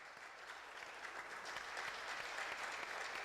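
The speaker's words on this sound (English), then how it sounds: "You hear the round of applause here from the crowd" A crowd at a 2013 racquetball match in Houston breaks into applause after a walk-off point, dense continuous clapping that swells slightly, heard at a moderate distance.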